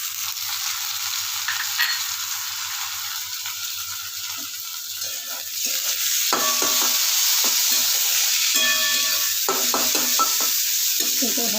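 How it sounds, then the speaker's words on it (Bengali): Chopped tomato added to lightly fried onion for a vegetable poha dish, sizzling steadily in the pan while a utensil scrapes and clicks through repeated stirring strokes; the frying grows louder partway through, close and continuous. "এবার দিয়ে দিচ্ছি টমেটো কুচিটা।"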